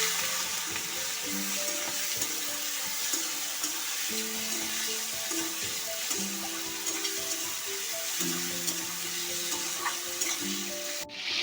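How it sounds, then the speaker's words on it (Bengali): Shrimp frying lightly in oil left from frying pointed gourd and potatoes, a steady close sizzle with stirring and scraping running the whole time, no voices. "একই তেলের মধ্যে চিংড়ি মাছগুলো হালকা ভেজে নেব"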